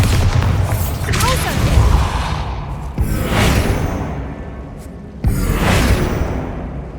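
Bombarda explosion spells in Hogwarts Legacy, three loud booming blasts roughly two seconds apart, each with a whooshing burst that decays, with some voice sounds mixed in.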